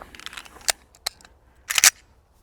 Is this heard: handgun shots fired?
yes